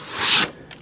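A Kershaw Parsec knife slicing through heavy duty stock paper: one short, close rasping cut lasting under half a second, followed by a faint brief scrape.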